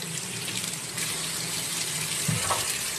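Tap water running steadily as fresh cucumbers and green mangoes are rinsed, a close continuous splashing hiss with a few brief clinks of handling.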